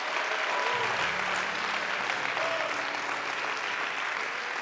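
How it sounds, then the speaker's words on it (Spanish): A church congregation clapping during a Spanish-language sermon, a steady wash of many hands clapping together with a low hum underneath and no clear speech. "Yo voy a aplaudir mis manos"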